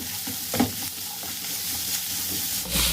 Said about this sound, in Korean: 이렇게 해서 먼저 달달 볶아주세요